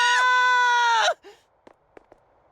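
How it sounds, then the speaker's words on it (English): A sustained, shrill scream rings out loudly in the Duet Night Abyss video game for about a second, then cuts off abruptly, leaving faint scattered knocks and rustles. "Screams from the direction of the Hypnos house."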